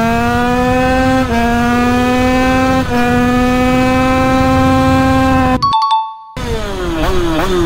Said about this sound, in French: C'est parti les gars pour un 0 à 100.